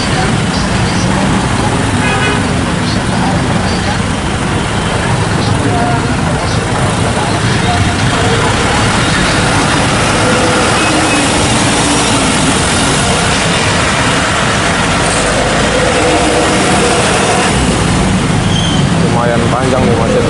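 Congested morning traffic on a road by Leuwiliang market, with continuous engine and road noise from cars, buses and motorbikes, occasional horn toots, and a loud, steady, close wash of sound throughout.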